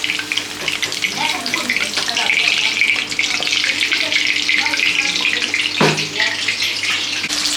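Paneer fries in a pan with a loud, dense sizzle that runs throughout, marked by a brief sharp clatter near the end; a voice talks faintly underneath.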